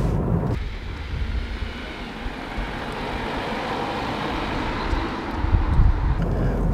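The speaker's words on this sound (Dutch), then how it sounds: "Bij deze 528 hoor ik daar vrij weinig van. Blijft een beetje zo'n soort van natte scheetgeluid." A BMW 528 driving through city traffic, its exhaust giving a low, wet, burbling rumble mixed with steady road and wind noise, loud and continuous from inside the moving car.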